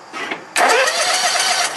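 A John Deere X320 lawn tractor's engine cranks briefly with a starter whir, then catches and settles into a steady, close, loud idle.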